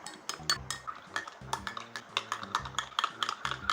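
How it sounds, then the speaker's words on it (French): A teaspoon stirs two Knorr stock cubes in hot water in the bottom of a cup, with quick, rhythmic clinks of metal against the cup, near and fairly quiet. "on prend une petite cuillère, on l'aide à se dissoudre"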